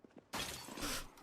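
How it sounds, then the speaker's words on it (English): Sudden loud glass shattering in the Project Zomboid survival game, a sharp crash bursting out of near-silence and ringing for about a second before fading. "Glass breaking jump scare?"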